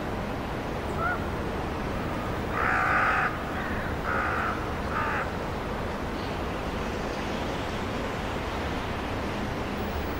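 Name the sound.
common ravens harassing a young griffon vulture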